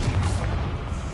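A Confringo blasting spell going off in Hogwarts Legacy, a single dense low booming blast that fills the short moment at steady loudness, heavy and rumbling with no voice over it.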